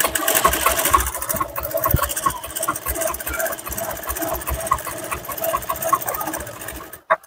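A sewing machine stitches a blouse, its needle rattling in a fast, steady mechanical run up close, then cutting off abruptly near the end.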